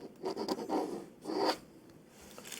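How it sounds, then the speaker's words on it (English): Pen scratching across paper in short scribbling strokes, two main bursts of close, dry writing with a brief pause between, followed by quieter rustling in an ASMR roleplay setting. "Let me just write that down."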